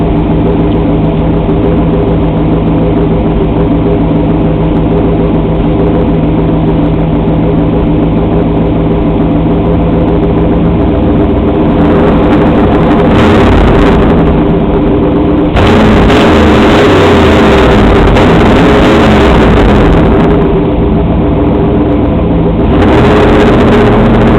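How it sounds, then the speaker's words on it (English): A Camaro engine runs loud and close, rumbling at idle then revving to higher RPM in a few surges, deep and throaty throughout. "pick the engine RPM up a little bit for you"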